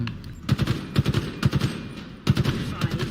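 Rapid bursts of gunfire in the shooter Halo Infinite, fired in short, clipped volleys of three or four shots each with brief gaps between them, loud and close with a low thump in every shot.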